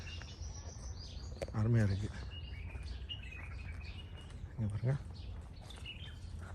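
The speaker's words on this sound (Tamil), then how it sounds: "குருவி சத்தம் ரொம்ப அழகாக இருக்குது கேட்குறதுக்கு" Small birds chirp and tweet among the guava trees and plants of the Al Ain oasis in the UAE, brief calls scattered over soft insect-like ambience while someone speaks quietly.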